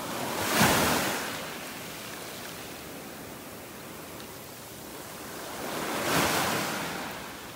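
Ocean waves breaking on a beach in North Naples, Florida, a broad steady wash of surf with two swelling surges, no talking, under some wind rumble.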